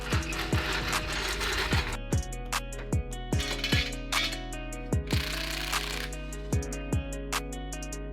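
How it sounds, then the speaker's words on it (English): An impact wrench fitted with a 19mm socket hammers at wheel lug nuts on a 2016 Subaru WRX, firing in short, sharp rattling bursts with brief pauses between them, close and loud. "19mm socket with an impact."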